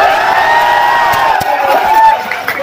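An audience at a film promotion event applauds and cheers for a director, with a dense wash of crowd noise, rising whoops and sharp claps close by.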